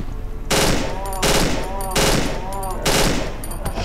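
Rapid gunfire bursts from the horror video game Cry of Fear, four loud clustered volleys with short gaps between them, close and dominant with no talk over them.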